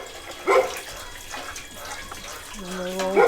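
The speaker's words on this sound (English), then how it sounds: "Sonnet is filling the canner up for me." Water runs steadily from a tap to fill a water bath canning pot, a soft continuous rush with a dog barking briefly at the end.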